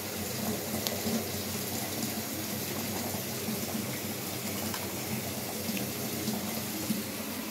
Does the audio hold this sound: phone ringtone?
no